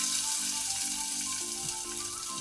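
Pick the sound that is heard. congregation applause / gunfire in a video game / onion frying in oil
onion frying in oil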